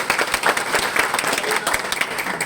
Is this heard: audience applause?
yes